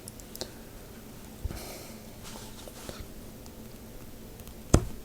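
An Allen key tapping against a plastic part of a Seasucker bike rack gives a few sparse, faint clicks, then one sharper, louder click near the end, in a quiet room.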